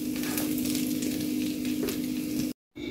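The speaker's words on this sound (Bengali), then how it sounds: "বাকিগুলো আমি সেমভাবে ভেজে নেব।" Beef filling for a sub sandwich frying in a pan, a steady close sizzle with a faint tonal hum beneath. It cuts out abruptly near the end and then resumes.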